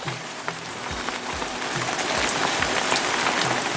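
Steady rain pattering on a surface during a storm at an anchorage, a dense continuous hiss that grows slightly heavier toward the end.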